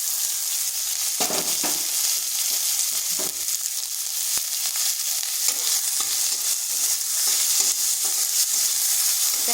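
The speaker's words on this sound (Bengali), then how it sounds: "পেঁয়াজটা হালকা একটু ভেজে নিচ্ছি" Chopped onion frying lightly in a spoonful of oil in a pan, a steady close hiss and crackle running throughout, with a few soft stirring scrapes and no voices.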